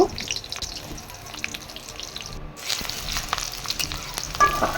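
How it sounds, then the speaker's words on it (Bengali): Onions fry in oil in a wok for a Bengali fish curry with potato and eggplant, a moderate close sizzle with soft stirring scrapes, briefly dropping before rising again, no talk. "কড়াতে আমি তেল দিয়ে দেব তার মধ্যে পেঁয়াজ দিয়ে দেব"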